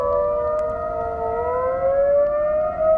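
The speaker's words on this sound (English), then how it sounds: "from the top of a tall building, the sirens sounded even crazier" Wailing civil defense sirens, heard from the top of a tall building, rise and fall together in long sustained tones, loud and continuous, echoing across a wide open space.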